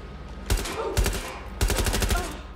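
Light machine gun firing in Watch Dogs Legion, two short rattling bursts of rapid shots, loud and close, with a brief gap between them.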